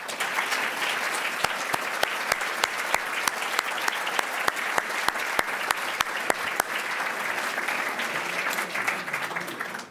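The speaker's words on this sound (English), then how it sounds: "let's give them a rousing round of applause" Steady applause from a lecture audience, a dense wash of many hands clapping continuously, with a few sharper claps standing out, lasting throughout.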